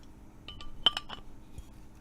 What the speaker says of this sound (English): that was a pretty decent cap pop.